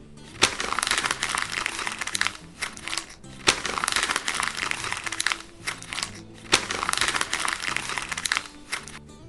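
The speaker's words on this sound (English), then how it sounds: "it was the sound of a crumpling paper" Paper being crumpled, with bursts of crinkling and crackling that come in three long waves, close and fairly loud, with no voices.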